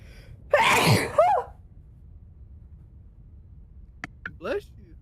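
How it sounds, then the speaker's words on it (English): A single big, loud human sneeze bursts out close by with a sharp intake and explosive release, followed by a short pause and then brief voices speaking afterward. "Got the big sneeze."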